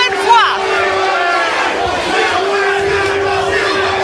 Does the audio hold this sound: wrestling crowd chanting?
yes